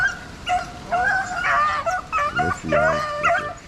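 Rabbit hunting dogs on an Ohio hunt letting out a burst of excited barks, yips and whimpers close by, overlapping in quick irregular bursts while someone speaks briefly.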